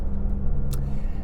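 A Maserati MC20 sports car pulls away on a road with a steady engine note and tyre rumble. A brief sharp hiss comes partway through, and no one speaks.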